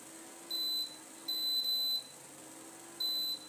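Electronic kitchen timer giving three steady high-pitched beeps of uneven length, set while cooking semolina idli in tea cups, close and clear over a low background hum.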